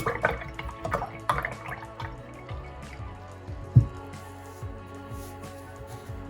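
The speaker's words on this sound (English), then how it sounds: "I'm going to go ahead and wash my brush off really well." A paintbrush loaded with purple paint is swished and rinsed in a container of water. Soft drips and light clinks are joined by one sharper knock, fairly quiet and close, with no voices.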